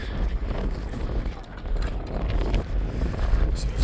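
Strong wind buffets the microphone at a roadside fuel stop near Albuquerque, giving a steady close roar and rumble with gusty swells throughout.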